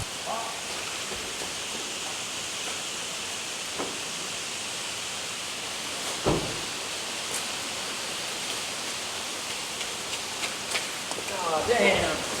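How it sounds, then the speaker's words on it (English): Heavy rain pours steadily in the mountains around Gatlinburg, a dense continuous hiss close by, with a few brief louder bumps and a burst of extra spatter near the end. "it's raining really bad"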